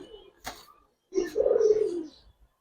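A pigeon gives a short, soft call and then one long, rolling coo, close and clear, with a faint click between.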